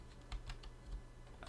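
Computer keyboard keys typed at a desktop workstation, a short burst of soft, close clicks in uneven rhythm, quiet and alone with no talk.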